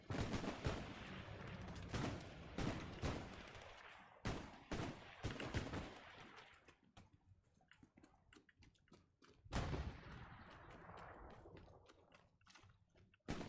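Rapid bursts and single shots of gunfire in a video game, loud and dense at first, then sparser cracks scattered through a quieter stretch before another heavy volley.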